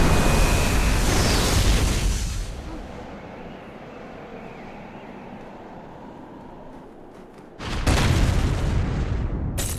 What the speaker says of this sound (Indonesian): Menghabisi mereka semua dengan sebuah ledakan petir yang sangat kuat.